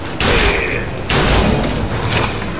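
Hand cannon fire in BioShock Infinite: Burial at Sea, two loud booming shots about a second apart, each with a heavy reverberant tail, then a fainter third blast.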